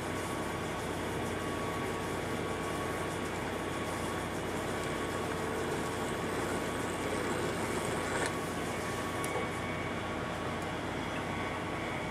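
A rotary burr tool runs at slightly reduced speed while detailing, giving a steady, continuous whine and grinding drone that stays level throughout with a faint brief scrape near the end.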